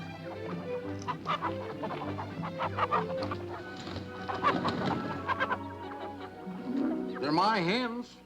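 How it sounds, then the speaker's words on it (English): Hens cluck repeatedly in a farmyard, a busy layered flock close by with a rising crow-like call near the end, as people talk over the birds. "They're my hens."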